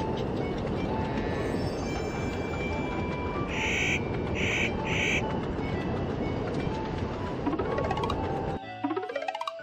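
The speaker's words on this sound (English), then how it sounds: "Let's start the train and go full speed ahead." A high-speed train in a children's cartoon rumbles steadily with dense mechanical noise, three short bright tones sounding in the middle, then rising sweeping tones as the rumble cuts off near the end.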